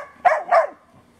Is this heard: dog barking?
yes